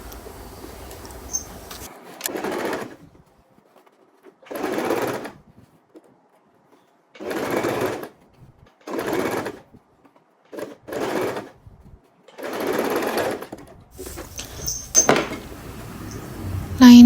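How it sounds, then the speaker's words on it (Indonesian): A sewing machine stitches the lining of a men's trouser back pocket with a long basting stitch, running in several short bursts separated by pauses, fairly close and clear. "Lalu kita jahit renggang."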